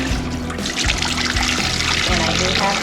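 Cold water pours steadily into a container, a continuous close splashing and trickling that runs the whole time.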